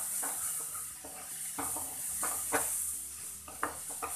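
Spices with green chillies, garam masala and red chilli sautéing in a pan for masala oats, a faint steady sizzle with light spoon scrapes and taps against the pan, close and quiet, no talking.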